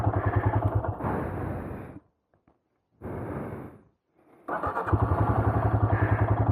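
Royal Enfield Himalayan motorcycle engine idling with a steady low thump, then cutting out into near silence, briefly running again and stopping, before a closer idle thump returns on a trail ride.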